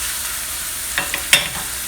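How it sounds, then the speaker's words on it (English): Ground beef browning in a frying pan, giving a steady close sizzle with a couple of brief scraping stirs near the end, alone without voices. "I'm browning my ground beef."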